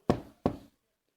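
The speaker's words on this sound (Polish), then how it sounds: "Stuk puk." Two sharp knocks on a door, close and loud, evenly spaced, then silence.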